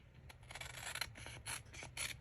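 Scissors cut through paper during a journal-making session, producing several short rasping snips in uneven bursts, close up and fairly quiet, with no speech.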